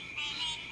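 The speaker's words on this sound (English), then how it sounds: "So the frogs aren't saying" Frogs croak outdoors at night in a short, continuous, rattling trill, moderately close and steady, with no voices over it.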